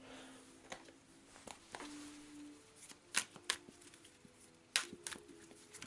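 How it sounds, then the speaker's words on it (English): Cards for the board game A Touch of Evil are shuffled by hand, a few soft riffling and tapping sounds with sharper snaps in places, quiet and close, with no talking. "So, quick shuffle."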